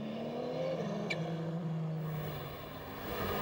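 A steady mechanical whine from a 24 Hours of Le Mans race car's transmission, with a rising tone sweeping through under a constant low rumble.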